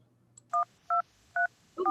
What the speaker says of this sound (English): do you have to dial?